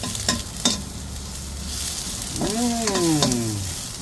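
Adobo ingredients sauté in a pan with a steady sizzle and scraping stirs, interrupted by a few sharp utensil clinks. A falling whistle-like tone cuts across the sizzle near the end.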